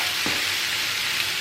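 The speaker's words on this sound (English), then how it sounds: "Saute onion to become golden brown." Onions sautéing in a pan for masala baingan make a steady, close frying sizzle, with a brief stirring scrape near the start.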